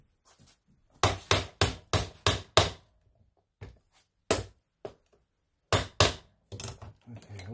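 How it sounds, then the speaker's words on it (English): A hammer strikes a stuck collar on a jet pump for a 1996 GTI with a 140mm pump. Six sharp, close metallic blows come in a quick, even run, then a few scattered strikes and softer handling noises follow. "Grab my hammer."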